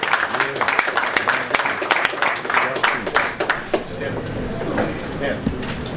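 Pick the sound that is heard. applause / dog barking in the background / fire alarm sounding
applause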